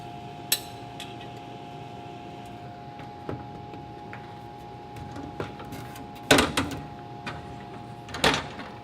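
An extensometer is removed from a tensile tester holding an aluminum sample, giving scattered close clicks and a few sharper metallic clunks over a steady machine hum.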